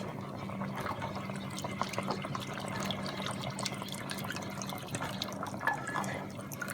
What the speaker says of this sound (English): Continue adding the rest of the 2 cups of milk.